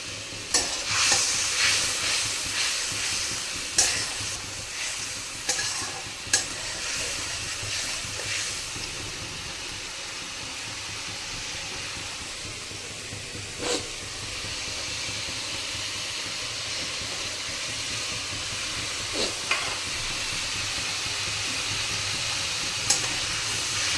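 Ground cumin, turmeric and chopped tomato frying in oil in a pan for a potato and cauliflower curry: a continuous hissing sizzle with occasional spatula scrapes and taps, close and steady throughout.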